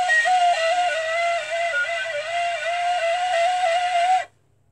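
A flute holds one long note for about four seconds with the thumb covering the hole, its pitch wavering slightly in a gentle pulse before it stops abruptly.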